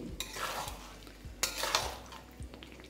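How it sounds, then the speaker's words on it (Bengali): Already-cooked potato, cauliflower and frozen peas are stirred together in a pan for a vegetarian dish, with a few scraping strokes and utensil knocks over a faint sizzle, close and fairly quiet. "এবার এই সব কিছুকে একবার ভালো করে মিশিয়ে নিন।"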